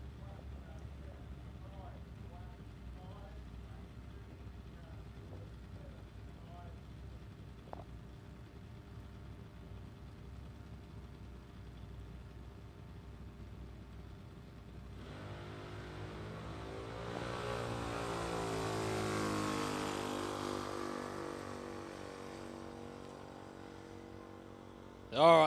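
A restricted junior dragster makes a pass down a drag strip at a test day, its engine rising from a distant rumble to a louder, broad roar that swells and then fades, with talk over low background hum.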